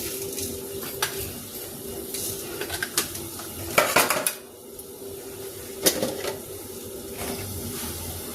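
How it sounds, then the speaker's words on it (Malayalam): Curry leaves and cumin go into a pan of turmeric and are stirred, with a soft background sizzle under scattered metallic scrapes and clinks of a spoon against the pan, close and irregular with no talk. "ഇനി ഇതിലേക്ക് ഞാൻ കുറച്ച് കറിവേപ്പില ഇടുന്നുണ്ട് കേട്ടോ."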